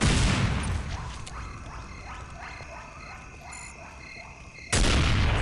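A grenade blast in Counter-Strike: Condition Zero, a loud burst that opens the clip and fades into game ambience and distant rhythmic thuds, with a second sharp, loud burst near the end.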